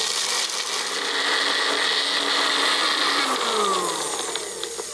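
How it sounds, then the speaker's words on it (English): A Magic Bullet blender grinds dry spices with a loud, steady high-pitched whir that holds for several seconds, then its pitch drops as the motor winds down near the end. "Place the lid and I will use the magic bullet."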